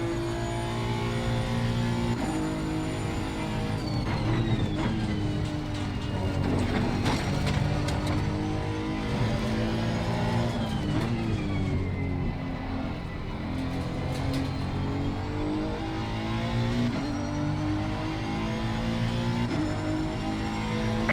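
A Honda NSX EVO GT3 race car in Assetto Corsa Competizione at the Nürburgring howls loudly and continuously, its engine note rising and falling through gear changes and revs, with no speech over it.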